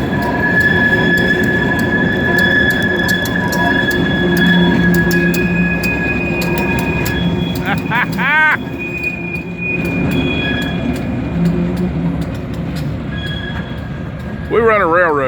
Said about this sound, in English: I love that sound. The rails are singing.